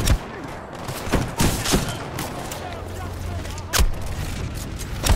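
Gunfire in the shooter game Titanfall 2 on PS4, with a DMR-type rifle among the weapons: a run of sharp shots and a couple of heavier booms over busy game noise, with a voice talking intermittently.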